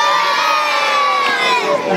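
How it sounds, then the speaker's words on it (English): Audience at a Punch and Judy show at a May Fayre, children and adults cheering and shouting together in a loud, sustained burst that holds steady for the full stretch. "so let's have another big cheer to please Mr. Punch"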